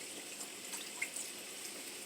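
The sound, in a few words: dry white wine poured into pan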